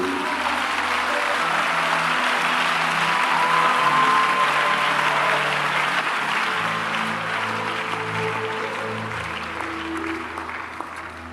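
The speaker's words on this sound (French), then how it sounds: "Est-ce qu'on peut acclamer le Seigneur pour lui?" A church congregation applauds to acclaim the Lord during a prophetic service, with steady, sustained clapping from a large crowd that swells slightly and slowly fades near the end, with faint voices underneath.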